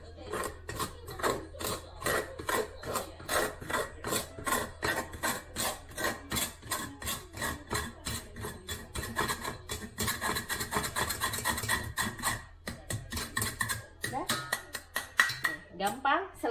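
Bananas mashed with a hand grinder for banana cake, a rhythmic series of close rasping, grinding strokes that turn faster and denser midway, with speech in the background.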